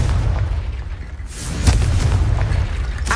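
A loud Confringo fire spell explodes in Hogwarts Legacy, a deep booming burst with a rumbling tail, followed by a second blast a moment later.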